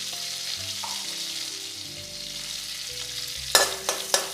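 Whole cumin, cinnamon, cardamom, cloves and dried chili sizzle steadily in hot oil for a Bengali prawn curry with potatoes, a continuous close hiss with a few sharper crackling spikes near the end, no talking.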